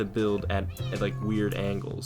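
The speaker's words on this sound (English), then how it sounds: "That's my cat in the background." A pet cat meows several times in the background, short rising cries that repeat under a person talking in a Minecraft build battle session.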